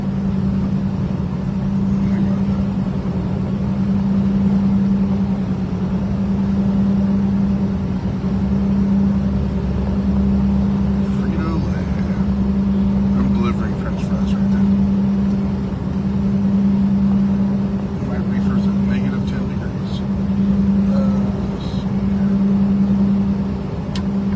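Car engine in a racing video game droning at a steady pitch with a continuous hum, loud and constant throughout, with no talking.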